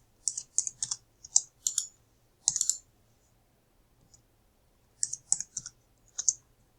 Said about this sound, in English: type 25 on your keyboard